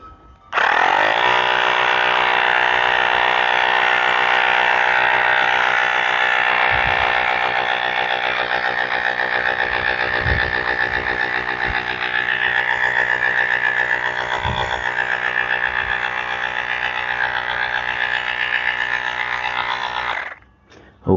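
An electric air pump inflates a Lectric XP trike tire with a loud, continuous buzzing drone that starts abruptly, holds steady for about twenty seconds, then cuts off, with a few faint knocks underneath.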